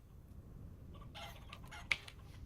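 Chickens in the survival game Vintage Story cluck and squawk in a few short, sharp bursts over a low, steady ambient background, with no talking.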